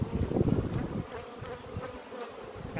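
Honey bees from an open hive with frames of brood buzz in a steady, close swarm drone, dense and continuous, with no voices over it.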